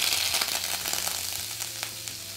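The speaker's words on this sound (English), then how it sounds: "next we are going to melt 6 tablespoons of butter in our pan" Six tablespoons of butter melting in a frying pan for Wiener schnitzel, a faint, steady sizzle with light crackles and a low hum underneath.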